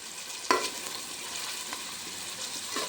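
Onion, green chilli and tomato fry gently in a pan, a steady soft sizzle with a sharper clink or stir near the start and light scraping later, no voices.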